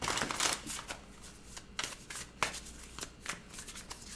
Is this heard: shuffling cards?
yes